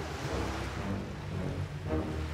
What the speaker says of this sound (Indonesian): Saat angin kencang akan membuat kapal itu terbalik, Duyung Arya datang.